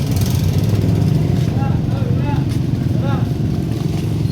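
A motorcycle engine runs at a steady idle nearby, a continuous low chugging drone with a few faint higher tones drifting over it.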